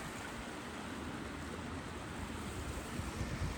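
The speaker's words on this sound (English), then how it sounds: "Here's the creek." Steady broadband rush of a creek flowing beside a road at a campsite, continuous and moderately close, with a faint low rumble near the end and no talking.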